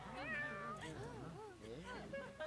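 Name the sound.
cat meowing in Fire Emblem Three Houses video game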